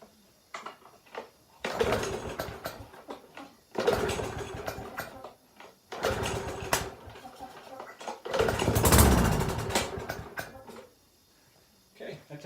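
A small lawn equipment engine with a suspect carburetor and primer bulb is pull-started repeatedly, with several bursts of sputtering cranking that catch briefly and die, separated by short pauses.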